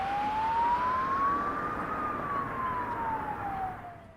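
Ambulance siren in a comedy sketch: a single sustained wailing tone slowly rising then falling in pitch, loud and steady over a dense rumble of traffic noise, no talk.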